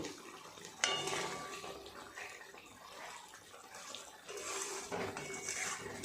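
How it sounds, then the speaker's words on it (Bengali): A pan lid comes off a tomato prawn curry with a clear metallic clank, followed by scattered rattles and scrapes of pot and utensil at moderate volume, with another clatter near the end. "এবার ঢাকাটা খুলে দেখব টমেটোগুলো একটু উল্টিয়ে দেব"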